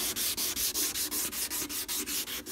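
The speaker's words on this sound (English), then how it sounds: "And then just kind of start sanding it." Rapid, steady back-and-forth strokes of 2000 grit sandpaper wet sanding a faded headlight, close and evenly rhythmic, about five strokes per second.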